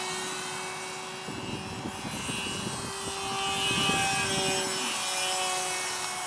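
A radio-controlled XB-70 Valkyrie model jet flying overhead, a steady droning whine that swells slightly and then eases, heard from a distance outdoors with no talking.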